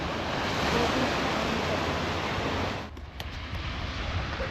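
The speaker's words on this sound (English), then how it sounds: "But this is a nice little beach." Surf rolls onto a small beach at Playa Blanca, Lanzarote, a steady loud wash of breaking waves that dips briefly before continuing.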